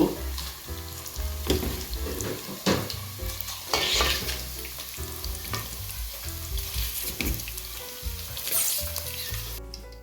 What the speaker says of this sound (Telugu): చూడండి పన్నీర్ ఏదైతే ఉందో ఫ్రై అయిపోయింది దీన్ని తీసేసుకుందాం ఇప్పుడు